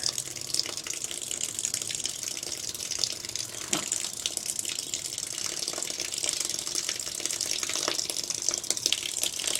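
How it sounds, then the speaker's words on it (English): Water runs steadily through an insulated line after a valve is eased open on a solar batch water pre-heater, a continuous broadband hiss of flow holding at an even level for the whole stretch with no voices. "we're just waiting for a bit of water to run through"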